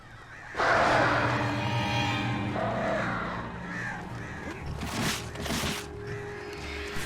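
Crows caw loudly and close in the Alan Wake Remastered video game, harsh repeated calls over an eerie ambient game backdrop.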